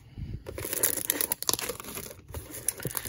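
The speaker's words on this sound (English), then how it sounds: "Let's sort of rip these packs" Foil trading card packs, 2022 Bowman Mega boxes from Target retail, are torn and crinkled open in a dense run of close, rustling rips with brief pauses, no talking.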